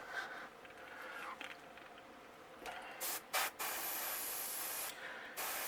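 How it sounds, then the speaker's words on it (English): Airbrush spraying paint onto a golden perch crankbait lure in short hissing bursts, a couple of quick puffs followed by a longer steady spray and another burst at the end. "I like to spray down the nose a little bit on an angle like this"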